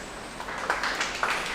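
An audience at a radio station event claps for the Sparkling FM station manager, a light, scattered patter of a few hands that swells slightly, fairly distant and soft.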